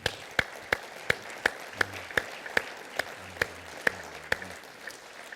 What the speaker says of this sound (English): I hope you can hear the applause from this audience when you get it.